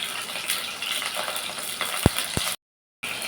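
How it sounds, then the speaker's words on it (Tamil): Peeled onions and garlic fry in a pan for a village-style okra tamarind curry, a steady close sizzle with a couple of sharp clinks of a utensil before a brief cut to silence. "உரித்து வச்ச வெங்காயத்தை உள்ளார போட்டுக்கலாம். உள்ளார போட்டு நல்லா வதக்கிக்கலாம்."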